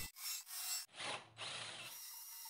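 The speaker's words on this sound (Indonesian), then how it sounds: "Kemudian bor titik-titik tersebut." A drill bores into pine wood in a few short bursts, a harsh grinding whir with brief pauses between passes, close to the listener.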